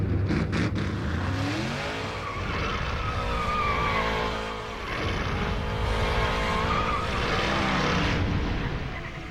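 Race cars roar past at close range on the final laps at Watkins Glen, engine notes rising and falling as they sweep through, loud and continuous with layered passes.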